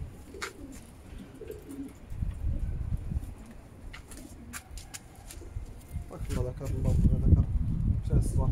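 Male racing pigeon cooing in a loft, several soft low throaty coos repeating close by, with shuffling and other bird sounds around them.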